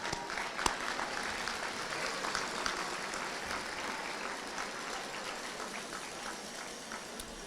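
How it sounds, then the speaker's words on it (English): Sustained audience applause for sponsors at a Volusia County Schools Teacher of the Year event, a dense steady wash of many hands clapping that stays loud throughout. "Please give them a round of applause."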